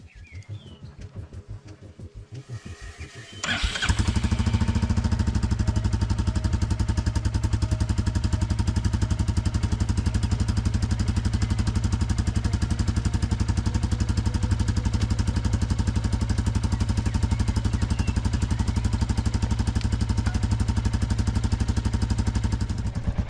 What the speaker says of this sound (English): Just let the engine run for a couple of minutes at idle